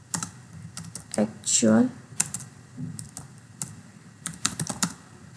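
Typing on a computer keyboard while entering a sum formula in an Excel spreadsheet, irregular clusters of sharp key clicks close up, mixed with someone speaking over them.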